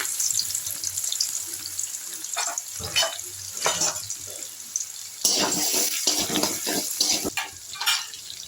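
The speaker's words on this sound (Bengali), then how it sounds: "আমি কড়াতে আবার একটু সাদা তেল দিয়েছি। এর মধ্যে আমি একটু রসুনটা, গ্রেট করা রসুনটা দিচ্ছি।" Grated garlic sizzles in white oil in a kadai, a hissing fry that swells in uneven bursts as it is stirred, fairly close and with no talking.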